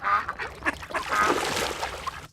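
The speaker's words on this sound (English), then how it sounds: "And let's put also sounds of ducks." Ducks quack in a rapid, overlapping chatter of bright honking calls, steady and fairly loud throughout, layered as sound effects.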